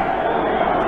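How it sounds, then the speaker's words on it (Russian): Soviet hockey crowd at the 1970 World Championship match between Sweden and the USSR, a loud, dense roar of massed fans chanting in the arena, steady and continuous over the whole moment. "Шайбу-шайбу, слышим болельщиков советских."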